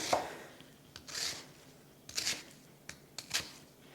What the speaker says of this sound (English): I'm gonna take my knife and then I'm gonna cut vertically down